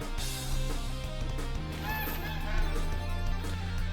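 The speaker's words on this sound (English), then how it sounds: "when the stingray yells, it does kind of sound like a seagull, a little bit, or like some sort of like aquatic bird" A stingray monster in a video game yells with honking, gull-like squawks over a busy layer of game music and effects, the cries loud and repeated in short bursts.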